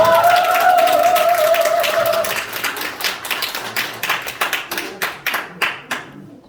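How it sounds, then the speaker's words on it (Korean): Applause at a customer invitation day event in Korea: a sustained tone fades after two seconds, then a crowd claps in scattered, tapering bursts that thin to individual claps near the end, fairly close and loud. "추명희 부부장님께 박수 부탁드리겠습니다"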